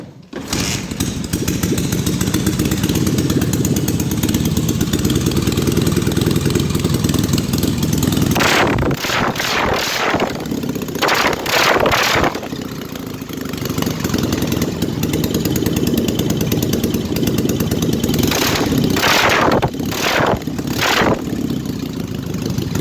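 A small motorcycle engine runs steadily and loudly throughout, with a few sharp revving bursts partway through.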